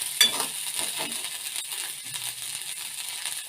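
Coriander leaves are sautéed in a pan for tomato chutney, a soft sizzle with light scraping and stirring sounds close by.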